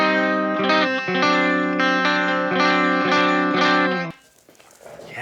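Electric guitar played through the clean channel of a Peavey Triple XXX amp, a run of strummed chords with a bright, effect-laden tone, ringing close and loud before cutting off into a brief quiet tail.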